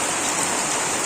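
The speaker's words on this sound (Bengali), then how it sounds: "আর এই যে দেখো সকাল পর্যন্ত বৃষ্টি" Steady rain falls on a morning after a night-long downpour at a modest home, a dense, continuous hiss with no talk over it.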